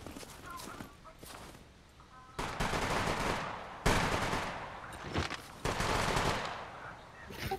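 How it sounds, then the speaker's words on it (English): Video game gunfire cracks through a wall in rapid bursts of loud shots, with a few pauses between volleys and a voice talking over the shooting. "They're shooting me through the fucking wall"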